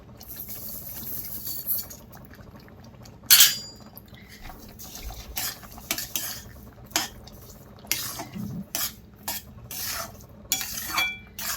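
A spoon stirs and scrapes in a pan as sugar is mixed into cooking semolina sheera, giving quiet, intermittent clinks and scrapes with a soft bubbling underneath and no talking.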